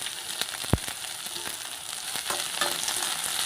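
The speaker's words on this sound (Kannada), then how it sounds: "ಈರುಳ್ಳಿ ಹಾಕ್ಕೊಳ್ಳಿ." Onions with green chilies frying in a pan for green chicken gravy, with steady close sizzling and crackling, one sharp knock from the pan, and light stirring scrapes.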